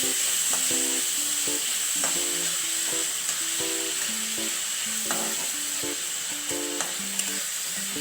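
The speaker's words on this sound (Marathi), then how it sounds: "कांदा चांगला परतून घ्यायला पाहिजे." Onion sautéing in a pan for a quick cabbage sabzi gives a steady, close sizzle with occasional soft stirring taps, while tonal background music plays underneath throughout.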